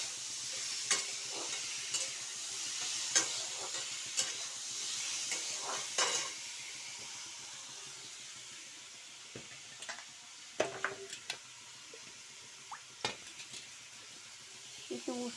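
A spoon stirs sugar in a pan, with scattered scrapes and taps against the metal over a quiet background sizzle, the strokes irregular and close, busier at first and sparser later.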